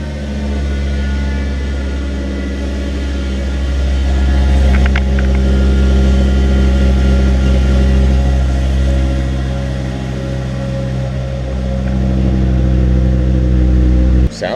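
Car engine on its first startup with a budget rear muffler delete exhaust, a loud steady idle rumble with a slight rise in revs midway, close to the tailpipe.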